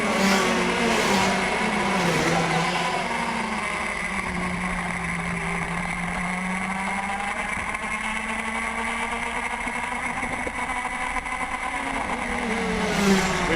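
TaG Junior karts race side by side on a street circuit, their engines whining and buzzing together in a steady, loud drone with shifting pitch as they run up the straightaway.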